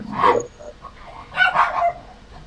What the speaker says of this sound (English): My dog barking.